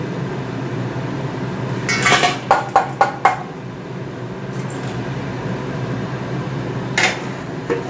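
A cooking pot of dal gets its lid clattered on and is set down, a quick burst of sharp metallic clinks and knocks over a steady low kitchen hum, followed later by one more brief clank.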